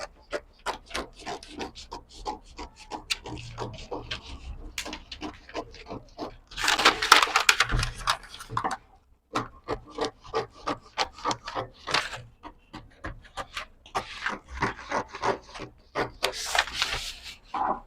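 Scissors snip through corset fabric pieces at close range, crisp and dry, in quick runs of repeated cuts separated by short pauses, with no talking.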